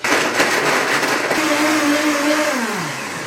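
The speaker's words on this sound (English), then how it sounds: "My favorite blender that I have here, this is a Blendtec." A Blendtec blender runs loud and close while making a smoothie, a dense steady whir that holds throughout and sinks in pitch near the end as the motor slows.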